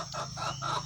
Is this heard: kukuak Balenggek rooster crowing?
yes